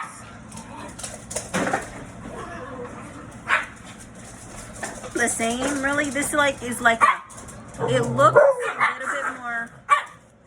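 Dogs bark in short bursts nearby while a person keeps talking over them.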